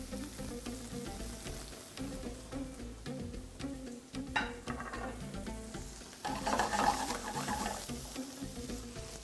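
Mushrooms stirred into a hot pan of sizzling food for a simple, healthy dish. A steady fry crackles throughout, broken by scraping stir strokes and a louder burst of sizzle as the pan is worked near the end.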